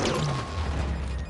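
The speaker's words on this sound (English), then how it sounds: "Enemy grenade!" An enemy grenade exploding in Halo 5: Guardians, a short loud blast with a deep rumbling low end that stays dense and fades slightly toward the end.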